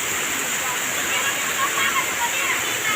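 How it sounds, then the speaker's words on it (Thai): A waterfall in Thailand pours down over rocky tiers, a steady broad rushing roar heard close and continuous without a break. "น้ำตกไหลท่อลงมาตามโขกหินเนาะ"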